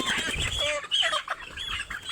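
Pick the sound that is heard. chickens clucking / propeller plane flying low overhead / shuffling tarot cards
chickens clucking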